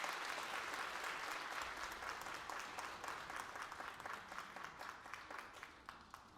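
Sustained, dense applause from a large congregation at a New Year prayer meeting, steady and loud throughout with a slight fade near the end.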